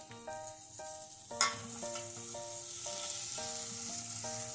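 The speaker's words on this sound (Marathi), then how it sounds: "खवा भाजून घेते" Khoa roasts in a pan with a soft frying sizzle and a few stirring scrapes, while steady tonal music plays over it throughout.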